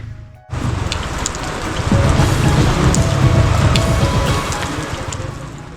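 Steady rain falling outside a hotel in Leepa Valley, a broad continuous hiss that swells louder partway through and keeps pouring without pause.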